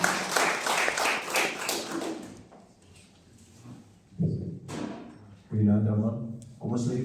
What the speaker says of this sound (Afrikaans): Kom ons geef hom op en lekker hande klap